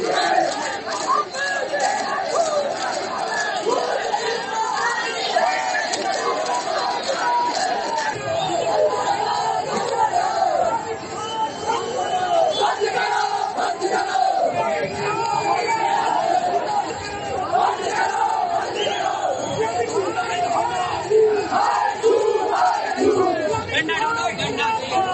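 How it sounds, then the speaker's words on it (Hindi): Large crowd gathered over a mosque dispute, a dense continuous roar of many voices shouting and chattering at once, loud and close throughout with no single voice standing out. "जरा एक एक लाइन को सुनिए और इस भीड़ का गुस्सा देखिए"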